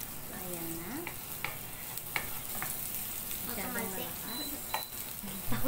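Ginger frying in hot oil in a pan before chicken feet are added, a steady close sizzle with spatula clicks and scrapes while people talk over it.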